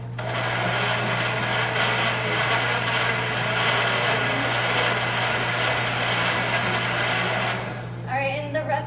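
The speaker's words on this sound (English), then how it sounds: "I'm going to turn on the blender here for a second." A kitchen blender whirs loudly while making a smoothie, a constant grinding hum for about eight seconds that then cuts off, with a person starting to talk just after.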